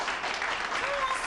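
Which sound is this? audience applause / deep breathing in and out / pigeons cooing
audience applause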